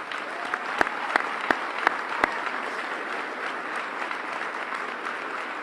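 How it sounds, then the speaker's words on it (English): An audience applauds a former mayor at a New Haven swearing-in ceremony, with dense, even clapping from a crowd and a few crisp individual claps near the start, holding steady to the end. "And for that, she must be applauded."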